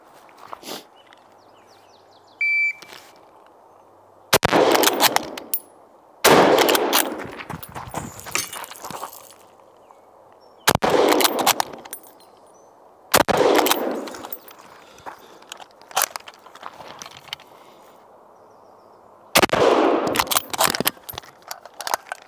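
Loud gunshots on an outdoor shooting range during a 25 m barricade drill, fired in several separate bursts of rapid shots with quiet gaps between them, against a steady background hum; no clear timer beep stands out.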